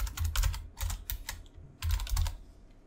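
Keys clatter on a computer keyboard in quick clustered bursts of taps with short pauses, close and fairly quiet.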